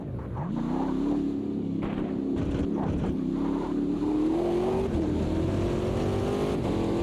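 A GTE race car engine in the Automobilista 2 racing game drones steadily, its pitch climbing and dipping through gear changes and throttle shifts, loud and continuous throughout with no talking.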